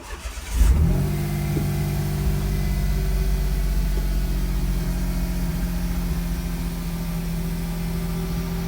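A Smart Roadster engine, freshly loaded with a tuned engine map, cranks and catches, then settles into a steady, close, low droning idle with slight rises in revs, recorded from inside the car.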